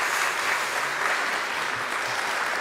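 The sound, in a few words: applause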